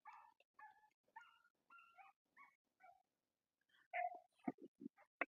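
A dog gives a series of short yips and whimpers, then a few louder sharp barks near the end, close by and fairly quiet, with silence between calls.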